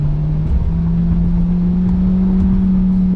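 A 2021 Hyundai Elantra in manual sport mode holds a steady engine drone from inside the cabin, loud and sustained at constant revs, with no voices over it.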